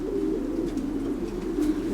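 A champion racing pigeon cock coos softly in a loft, a low, steady murmuring close by with no speech.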